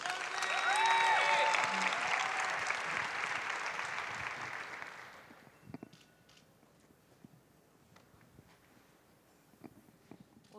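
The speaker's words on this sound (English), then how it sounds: "given all of the applause that you each received" Audience applause for panelists at a university panel discussion, a dense burst of clapping that swells and then dies away after about five seconds, leaving scattered faint claps and room noise.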